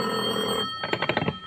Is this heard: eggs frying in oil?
no